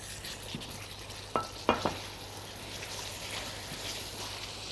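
Apples stirred into browned, sizzling caramel in a pan make a soft, steady sizzle, broken by a few quick scrapes and clinks from the stirring utensil near the middle.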